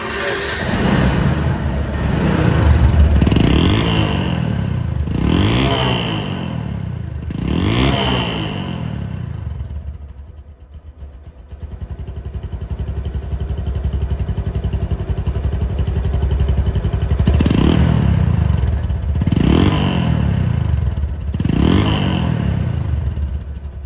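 A second-hand motorcycle engine runs after an electric self start, with several rising revs that swell and fall in repeated bursts, a short quieter idle in the middle, then more revving close by and loud.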